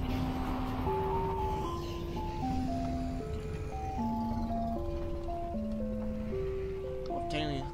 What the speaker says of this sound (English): I know the ice cream truck's there